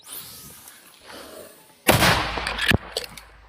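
A single heavy 120 mm mortar blast booms suddenly after a quiet stretch, loud and sharp, followed by a short rumbling tail.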